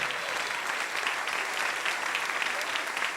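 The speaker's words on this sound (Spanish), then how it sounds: "déle ese aplauso con todo su corazón en esta mañana" A church congregation gives a dense, steady round of applause that carries evenly from start to finish, full and close, with no voices standing out.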